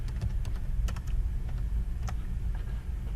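Keys clack on a computer keyboard as a control name is typed into a C# Windows Forms property field: a quick run of irregular, close taps over a steady low hum, with no voices.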